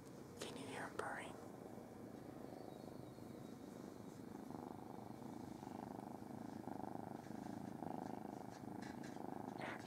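A rescued female cat at an animal rescue centre purrs softly and steadily for the whole stretch, very faint and close, with quiet whispering over it.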